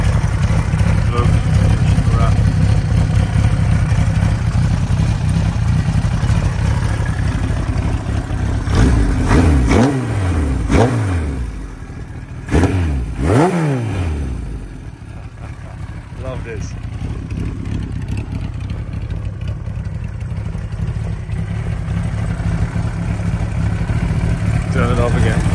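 A fast personal motorcycle's engine runs steadily nearby, rising in a few sharp revs partway through before settling back to a steady idle, with someone talking over it.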